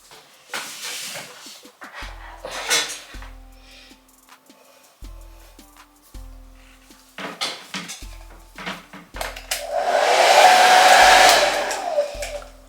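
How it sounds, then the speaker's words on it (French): A hair dryer whirs steadily with a broad airy rush, loudest toward the end, among scattered clinks and clatters of dishes and cutlery. "Vous prenez le sèche-cheveux."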